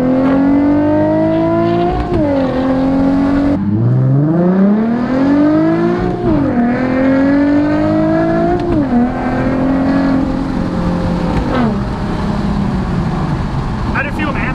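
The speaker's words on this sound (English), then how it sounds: "Wait for this car to pass up when we do it." A car engine revs and shifts through gears close by in a Nissan 370Z Nismo, pitch climbing and dropping as traffic moves past, with a steady rumble throughout.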